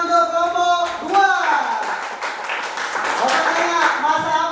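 Students in a cooking class clap for a group that has just finished making fried rice, a steady patter of hands running under a teacher's voice and children talking.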